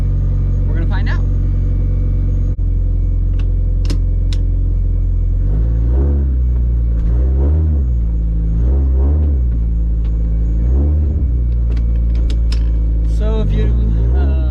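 A 1983 Toyota Corolla wagon's engine rumbles loud and close while driving, with repeated rises in revs as it accelerates. A voice talks over the engine at times.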